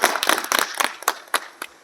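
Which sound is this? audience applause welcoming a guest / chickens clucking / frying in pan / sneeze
audience applause welcoming a guest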